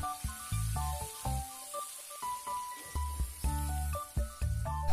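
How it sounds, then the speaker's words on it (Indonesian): Soaked and drained anchovies fry in hot oil, giving a continuous crackling sizzle with bursts of popping, heard close under steady tonal background music. "Lanjut goreng terinya di minyak yang panas."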